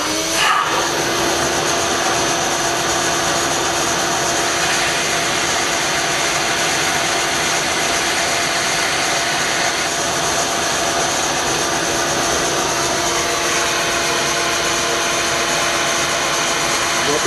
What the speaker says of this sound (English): Got the dust extracting.